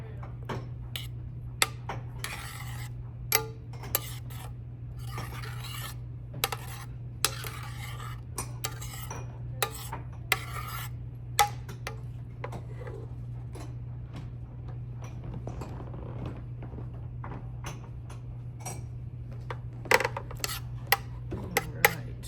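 Shrimp are moved around a pan with lime oil, tequila and butter, making quiet, irregular utensil ticks and scrapes over a steady low hum.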